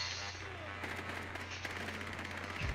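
Enemy gunfire in the tactical shooter game Rainbow Six Siege: a rapid burst of automatic shots rattles at a moderate distance, fairly quiet against a steady game background hum.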